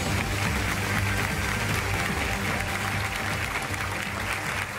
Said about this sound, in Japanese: テルロック選手に大きな拍手を送りください。